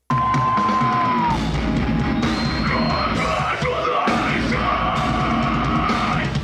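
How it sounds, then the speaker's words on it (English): A metal vocalist lets out harsh, loud screams in sustained bursts over about six seconds, raw and shouted, with brief breaks between phrases and no speech over them. "we'll insert literally 5 seconds of you screaming right here."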